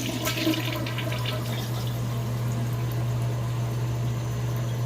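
A blocked toilet flushes with a steady, continuous rush of water and a low droning hum underneath, the water churning without a clear drain-out.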